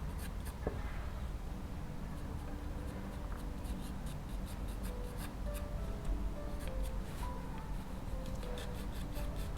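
A pencil sketching dark, heavy strokes on paper while drawing a portrait's eyebrows, a steady close scratching that runs continuously throughout, with faint tonal noises in the background.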